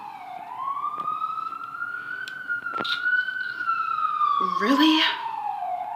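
An emergency vehicle siren wails near a hospital, a rising and falling tone that sweeps past fairly close and steady, with a brief spoken word and a short voiced exclamation over it.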